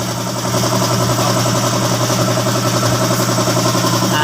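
A Nissan Sentra car engine idles steadily with a constant low hum and vibration throughout, close and fairly loud, no voices.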